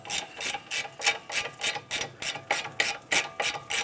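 A ratchet loosening brake caliper bolts on a 2015-2019 Hyundai Sonata, close and clear, clicking in steady rhythmic strokes of about three per second, heard alone.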